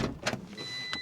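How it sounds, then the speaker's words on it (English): A car's power window motor whirs briefly up close inside the vehicle, a short mechanical drone with a couple of faint clicks, lasting about a second. "Oh, window up."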